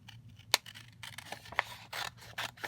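Scissors cut through adhesive foil for a pop-out anniversary card, giving a few sharp, close snips and crisp papery rustles at a quiet level.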